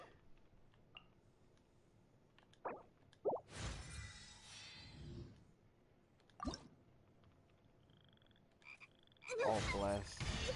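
In-game frog croaks from Genshin Impact come in a few short, separate calls over a quiet ambient backdrop, mixed with splashy, squishy effects and a louder burst near the end.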